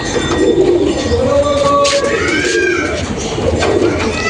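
Soft coos of Madras pigeons repeat steadily over a busy, noisy background, with a few brighter bird calls mixed in.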